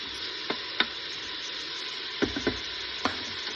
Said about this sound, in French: de la viande hachée congelée. Voilà, je mets à peu près ça. Allez, on va la laisser cuire 2 minutes aussi.